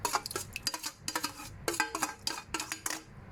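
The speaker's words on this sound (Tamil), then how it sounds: "அந்த கடலை பருப்பையும் இதில் போட்டுறேன்" Cooked chana dal being added to a pot of water for a brinjal salan, heard as a run of close metallic clinks and scrapes of a utensil against the pot, with no talking.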